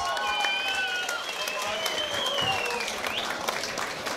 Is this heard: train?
no